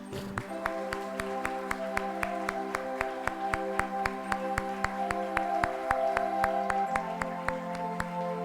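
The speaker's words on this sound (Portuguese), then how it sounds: "Glorifique a Deus com as suas palmas" A church congregation claps hands together in a steady, regular rhythm, loud and close, with a sustained musical tone ringing underneath throughout.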